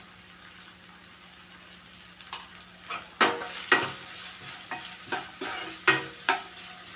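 Okra frying in a pan with turmeric and salt, a constant sizzle broken by repeated scraping stir strokes and clacks of the spatula against the pan, growing busier toward the end, close-up with no speech.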